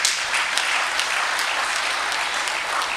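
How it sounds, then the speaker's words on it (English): A crowd applauds steadily, dense clapping at a consistent level throughout, without speech. "So you can clap for yourself."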